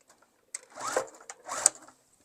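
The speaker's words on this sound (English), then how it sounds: "I'm going to sew all the way around" A sewing machine stitches a tote bag seam at a half-inch allowance in two short quiet runs, each a brief whirring burst separated by a pause.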